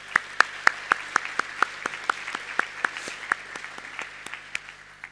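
A conference audience at a closing session applauds with sparse, distinct claps that come at a steady pace, fairly close and moderately loud, with no talk over them.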